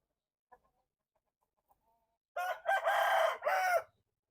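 A rooster crows loudly and close at a fighting cock farm in Thailand, one long call after a few faint clucks and quiet rustles.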